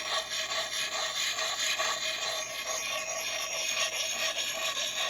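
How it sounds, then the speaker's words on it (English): An axe edge being sharpened with a hand-held axe puck worked in circular motions, giving a steady, close, continuous gritty rubbing and rasping that carries on without pause. "When I sharpen an axe, I tend to sharpen like this in circular motions."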